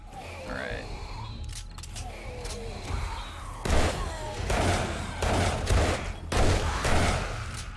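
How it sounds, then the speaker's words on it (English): Shotgun blasts in the survival game 7 Days to Die during a solo base defense, several sharp loud shots spaced irregularly across the clip, with faint game sounds between them. "we'll bring out the shotgun"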